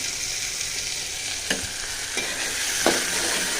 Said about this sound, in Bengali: তো পেস্টটা ভালো করে ভাজা হোক